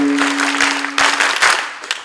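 Audience clapping at a Kalaatirth rhythm performance, a few bursts of applause over a sustained steady tone, moderately loud and close.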